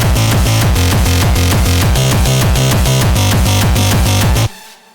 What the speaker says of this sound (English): and then it sounds like this if we combine everything together.